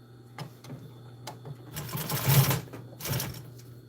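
A sewing machine stitching custom truck storage bags, close mechanical whirring in short bursts with a longer louder run near the end.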